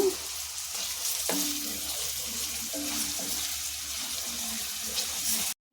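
Onions, cumin seeds and green chillies fry in a hot pan with a steady close sizzle, broken by a few light clinks of a utensil, before cutting off abruptly.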